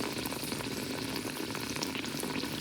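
Pitha fry in hot oil for a temple offering, a loud, even, bubbling sizzle close up that runs throughout with dense crackling and no talk.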